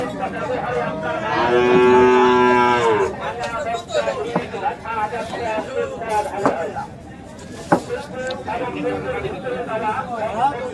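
Cattle moo at an outdoor livestock market in Hazratpur, one long drawn-out low call standing out early, set against a crowded background of chatter and babble from many people.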